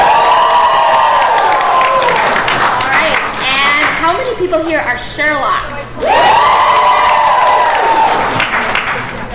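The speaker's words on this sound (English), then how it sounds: "please cheer really loud if you're a Whovian" A convention panel audience cheers and whoops loudly in two long bursts, with a host talking briefly between them.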